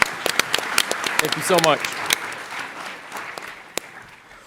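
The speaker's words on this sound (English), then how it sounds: "Give them a round of applause." Audience applause at a startup pitch competition, a crowd clapping in a steady burst that fades, with someone briefly speaking over it.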